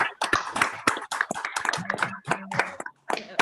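Hands clap at a steady, quick pace for a speaker during an online lecture class, a close burst of applause that briefly pauses before resuming.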